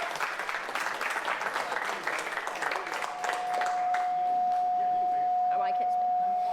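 Audience applause fills an arena at a Rocket League esports grand finals for the BIG EAST Championships. Dense, sustained clapping swells and grows louder toward the end, with a steady tone appearing partway through.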